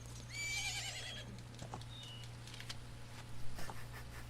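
Horse neighing in the video game Ocarina of Time, one high whinny with a trailing tremble near the start, then faint scattered hoof-like taps over a steady low hum.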